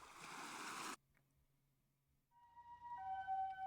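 Ambulance siren in the video game Robotics;Notes Elite: a brief burst of harsh noise cuts off, then after a quiet gap a steady tonal siren rises in, wailing on a held pitch.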